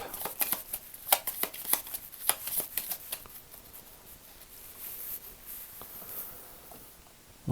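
Russian gypsy tarot cards being cut and shuffled, a quick run of crisp papery riffles and snaps that thins into soft rustling, close up and with no talking.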